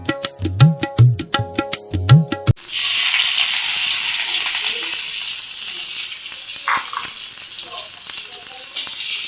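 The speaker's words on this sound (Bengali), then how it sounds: "পেঁয়াজ কুচি করা আর কাঁচামরিচ আমি তেলে হালকা ভেজে নিব।" Chopped onions and green chilies hit hot soybean oil with a sudden loud sizzle that settles into steady, crackling frying, preceded by a few sharp clinks and short utensil taps.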